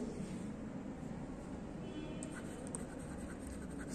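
A teacher writing a sentence, a soft continuous scratching of pen or chalk on a writing surface, faint and close over a steady background hiss.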